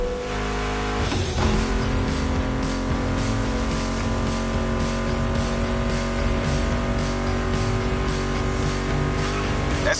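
Muscle car engines roar in the racing video game The Crew Motorfest, a loud, steady droning growl that surges with a brief rev near the start, then holds a continuous, dense rumble throughout with no voices.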